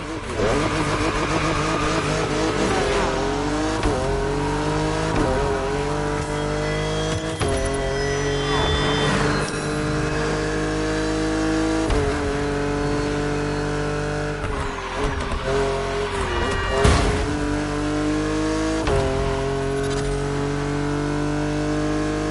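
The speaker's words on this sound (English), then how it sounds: "A classic for you from a very famous German brand, the BMW Z4 M40i." BMW Z4 M40i roadster driven in The Crew Motorfest, its engine revving up and dropping repeatedly through gear changes, loud and continuous, with a voice talking over it.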